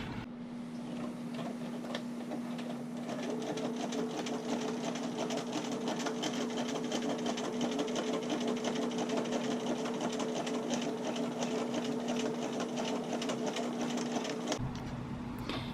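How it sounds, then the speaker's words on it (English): A sewing machine runs a zigzag stitch along a bra, with a steady, even mechanical whir and rapid ticking that holds for about fifteen seconds before stopping abruptly. "I'm going to run a zigzag stitch down this to secure it in place"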